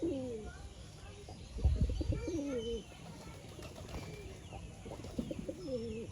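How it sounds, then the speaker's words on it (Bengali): Racing pigeons coo in repeated soft, low warbling phrases close by, a brief louder thump or rustle midway, with gentle background noise throughout. "দেখলে পায়রা দুটো একই কালার, এটা হচ্ছে রেসার।"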